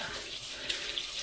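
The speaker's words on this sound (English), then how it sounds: "So, sieve, rice, in a sieve, under the tap" Tap water runs steadily and close by as rice is rinsed in a sieve under the tap, with a constant splashing rush and small spatters from the grains, and no talking.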